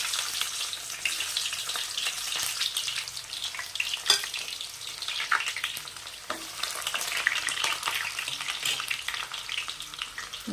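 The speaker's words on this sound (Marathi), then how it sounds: "तेल तापाला ठेवलेलं आहे आणि मी तापलं की नाही चेक केलं होतं तर तापलेलं आहे एक कांदा कट करून टाकायचा आहे बारीक" Finely chopped onion frying in hot oil for Maharashtrian chana masala, a steady dense sizzle with occasional scraping stir clicks from a spatula, close and continuous throughout with no talking.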